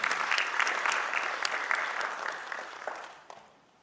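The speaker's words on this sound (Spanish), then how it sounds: "Un fuerte aplauso para él." Audience applause for a speaker at an urban forum in Peru, a steady burst of many hands clapping that gradually thins and fades out over a few seconds.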